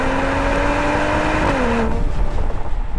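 A Mercedes-AMG GLE 53 SUV with a 3.0-litre inline six-cylinder engine accelerates hard, its rising engine note loud and close before shifting and fading into road and wind noise.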